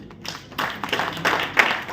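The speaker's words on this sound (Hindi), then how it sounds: "ताली बजाइए अपने को।" Audience applause at an Inner Wheel Club district gathering in Faridabad, a scattered round of hand clapping from a room of people that starts thin and swells into steady clapping over two seconds.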